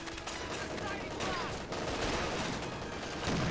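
Rifle and machine-gun fire crackles in a Company of Heroes 2 battle, with steady bursts under a commentator's voice.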